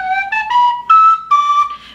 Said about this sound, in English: So I got myself a little collection of penny whistles